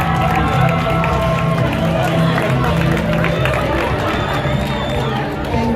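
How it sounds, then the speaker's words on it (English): A crowd at a live choir competition claps and cheers, a loud continuous roar of applause and voices from a large audience, steady throughout with tonal singing or shouting mixed into the hubbub. "Just give them all a big round of applause."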